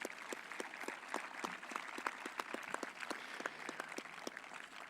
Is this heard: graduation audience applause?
yes